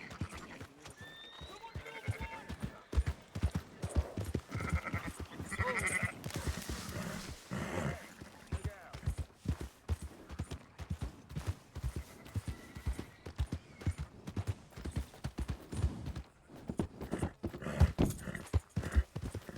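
Sheep bleat and horse hooves clop in Red Dead Redemption 2, with steady clip-clop footfalls and scattered bleats under a faint bit of talking, all fairly quiet and close.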